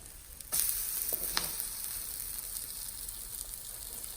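A drumstick flower and capsicum omelet cooks in a pan over medium flame, a soft hiss jumping into a louder steady sizzle after a brief scrape as it is flipped, then sizzling evenly on.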